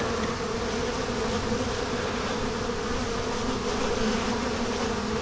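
Honeybees from an April package colony swarm around an open hive during an inspection, giving a dense, steady, close buzzing drone that fills the whole stretch with no talking.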